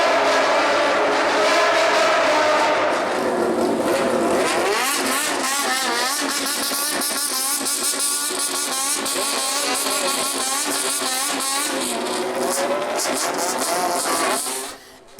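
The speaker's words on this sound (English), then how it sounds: "revving the engines as loud as possible, causing havoc on the road" Bosozoku gang motorcycles rev their engines loudly inside a tunnel, a dense, echoing roar of repeated throttle blips and wailing revs that fades out sharply at the end.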